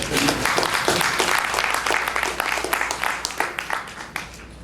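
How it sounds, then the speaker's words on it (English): A room full of people at an evening community event in San Diego breaks into loud, close applause, a dense continuous patter of clapping that carries on for several seconds. "Please welcome with a round of applause the moderator for tonight's speaker, Patrick Ambrosio"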